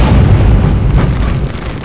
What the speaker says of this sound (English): a sudden explosion of vapor cloud happened.